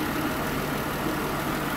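A Jeep Cherokee V6 idles steadily, a low even engine hum running smoothly with no voices over it.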